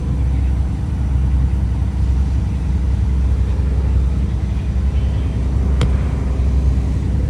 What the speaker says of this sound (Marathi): आमच्या पुढे ह्या ऑटो रिक्षा लागलेल्या आहे